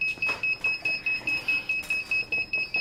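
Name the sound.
repeated electronic beeping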